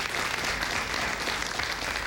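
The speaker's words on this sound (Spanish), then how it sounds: "le damos un aplauso" Studio audience applauding on a TV talk show as guests are welcomed, a dense, steady wash of clapping filling the whole moment without a break.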